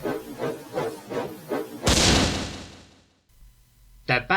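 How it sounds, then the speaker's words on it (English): A railway emergency detonator cap bursts under a small narrow-gauge engine in a gorge, one loud sudden bang that rings out and fades over about a second, following rhythmic chuffing, with a voice narrating. "The bang echoed round the gorge."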